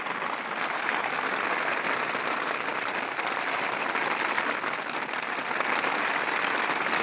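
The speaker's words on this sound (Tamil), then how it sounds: "பெரிய மழை பெய்ய ஆரம்பிச்சிருச்சு" Heavy rain falls on an open farm field in a steady, dense hiss that stays unbroken and fairly loud from start to finish, with no voices.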